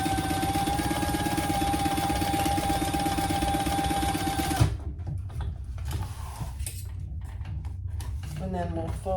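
A sewing machine stitches two fabric pieces right sides together across the top of an outside pocket for a divided basket, running with a steady, even whir for about four and a half seconds before stopping, followed by quieter handling noises.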